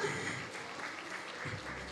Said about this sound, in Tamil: ஒரு பெரிய பெரிய கைத்தட்டல் கொடுத்தலாம்.